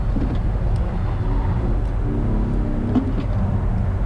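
A Mercedes-AMG 53 sports car engine hums low and steady on a race track, quiet and smooth, with no loud revving throughout.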